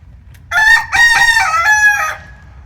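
A rooster crows loudly and close by in a chicken coop, two long drawn-out calls back to back, with faint low background noise around them.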